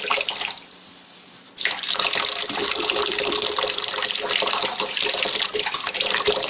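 Water running steadily at roughly a quart a minute, a soft hiss that starts quietly, then jumps louder after a second and a half and holds a constant, even flow to the end.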